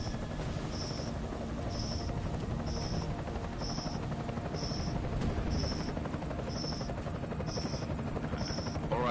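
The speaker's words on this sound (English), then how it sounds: "Enemy helo sighted." Enemy helicopter in Deus Ex, a steady droning rotor hum filling the scene with a regular high beeping pulse repeating about once a second, constant and moderately loud throughout.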